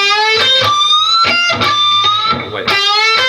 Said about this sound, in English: you're going to bend it a whole step